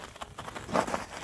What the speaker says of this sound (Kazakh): қытырлаған қардың дауысы.